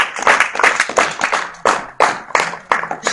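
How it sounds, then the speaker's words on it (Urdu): Audience applause at a school farewell party, a crowd clapping in repeated bursts of rapid claps, loud and close, each wave swelling and fading with no talking. "سب کے لیے بھرپور تالیاں ہیں."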